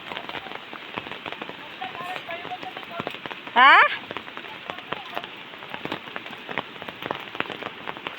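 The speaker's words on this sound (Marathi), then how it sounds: "अरे पाऊस बघ किती आहे." Heavy rain pours steadily in the Konkan countryside, a dense continuous patter of drops on surfaces, with a brief spoken word cutting in midway.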